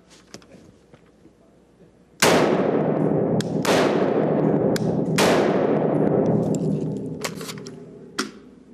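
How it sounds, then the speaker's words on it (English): Several loud, sharp AR-15 rifle shots fired at a target outdoors, five or six cracks spread over a few seconds, each followed by a long decaying echo that keeps the air ringing between shots. "So I'm going to shoot it real quick so that you can see the impact in the target that it will make."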